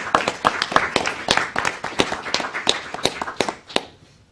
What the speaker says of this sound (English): give them a collective round of applause